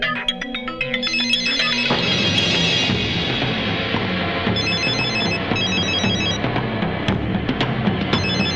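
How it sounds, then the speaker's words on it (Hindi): A phone ringtone rings in a Bhojpuri action film scene, a steady repeating electronic melody that comes in after a short burst of background music and carries loud and clear to the end. "भाई आपका फोन है।"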